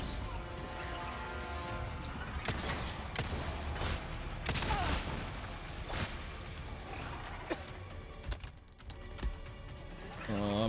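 Gunfire from the video game Resident Evil 4 Separate Ways, with sharp shots over a steady bed of game music and effects while a player talks.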